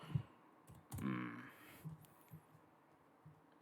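Computer keyboard typing in a quiet room: a few scattered, faint clicks and taps with irregular gaps and no voices.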